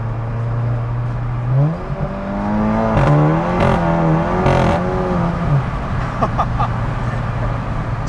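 A tuned 380-horsepower Volkswagen MK7 GTI with a DSG gearbox and flex-fuel tune accelerates hard with wheel spin. The engine drones steadily, then climbs and surges in pitch through a loud, close pull before settling back to a steady hum.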